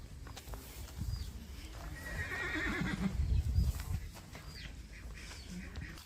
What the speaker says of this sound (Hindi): और ये है दोस्तों चेतक घोड़ा